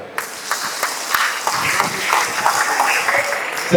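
Students applaud at a drug awareness campaign event, producing scattered, uneven claps that thicken into a moderate, close burst of clapping.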